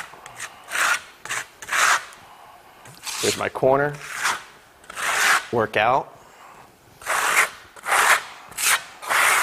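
Trowel working merlot lime Venetian plaster with aggregate across a wall, giving repeated gritty rasping strokes in short close bursts, with a person talking between them.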